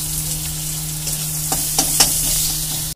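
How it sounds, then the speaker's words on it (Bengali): Dried fish frying in oil with turmeric as chopped onion is added, a steady close sizzle broken by a few short stirring scrapes and clinks, with a low hum underneath and no one speaking. "আমি শুকনো মাছটা ভেজে নিয়েছি হলুদ দিয়ে, তারপরে দিয়ে দিচ্ছি পেঁয়াজ।"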